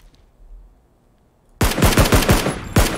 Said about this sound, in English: He got a gun. This guy actually got a gun.